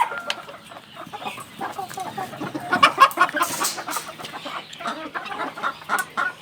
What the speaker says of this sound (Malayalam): എല്ലാം അങ്ങോട്ടെല്ലാം കരിങ്കോഴി കുഞ്ഞുങ്ങളുണ്ട്